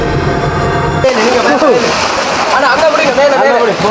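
A young man jumps into the water of the Nilavarai well, making a broad splash in the first second, followed by excited voices talking and shouting close by.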